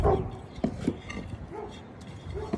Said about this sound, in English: My dog jumps up into the tree to bark at people walking by.